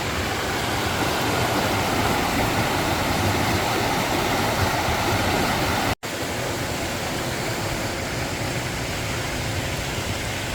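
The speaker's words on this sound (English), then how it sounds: "the soothing sound of Turkey Creek Falls sets the tone for the journey ahead" Steady, dense roar of Turkey Creek Falls in Alabama, broad and continuous like a waterfall nearby, with a brief dropout partway through.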